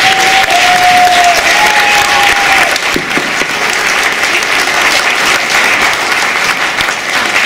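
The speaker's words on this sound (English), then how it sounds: "Another round of applause for the beginning and all their hard work." Loud, sustained applause from a winter concert audience, thick even clapping throughout with a brief whistle-like tone early on.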